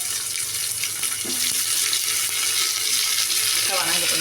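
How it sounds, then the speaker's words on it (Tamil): Tomato and onion sauté in a pan for drumstick sambar with a steady, moderate sizzle, a few stirring clinks and a faint background of running water. "தக்காளி வெங்காயம் நல்லா வதங்கிடுச்சுங்க"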